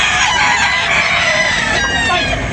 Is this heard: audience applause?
no